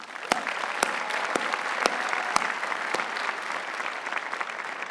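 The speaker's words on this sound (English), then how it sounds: "And one more round of applause." A crowd at a university commencement ceremony claps steadily, a full sustained wash of applause with a few sharp individual claps standing out, close and even for the whole stretch.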